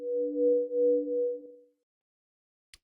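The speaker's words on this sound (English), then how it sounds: "and then like a feedback as if the chord is going through an amp." A sustained, pure resonator synth chord with feedback, made in Ableton Live 12, hums with a slight wavering pulse, then fades into silence, followed by a tiny click.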